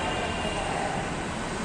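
A metro train gives a steady, close, broadband rumble and rush of rolling noise that holds evenly throughout the short stretch, with no speech.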